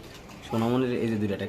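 A white pigeon coos in a low, rolling burst, close and fairly loud, following a quiet stretch.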